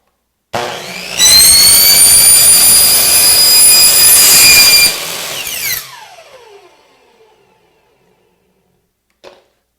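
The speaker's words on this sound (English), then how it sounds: "Let's go ahead and cut this." A power tool cuts through corrugated plastic in a shop with a loud, high, steady whine for several seconds. It then spins down in a falling tone and fades to silence, followed by one brief knock.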